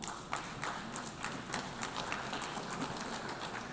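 Applause from delegates in the UN General Assembly hall during a speech by Finland's president, heard as a steady, distant wash of many hands clapping with faint individual claps standing out.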